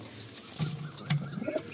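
Pigeons cooing close by, a few soft low coos at a gentle uneven pace against faint background noise.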